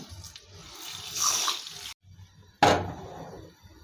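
Water pours from a container onto sugar in a kitchen pan while making adadiya syrup, a soft running splash that stops briefly before a louder second pour.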